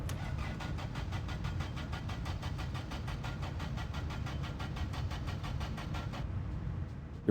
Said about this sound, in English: You're flooding the engine?